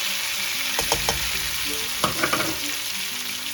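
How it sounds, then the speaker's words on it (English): Tomatoes and chili powder frying in a pan for dhal with kale, a steady broadband sizzle broken by a few sharp clinks and scrapes of stirring near the start and again past the midpoint. "We're going to add in the tomatoes, chili powder,"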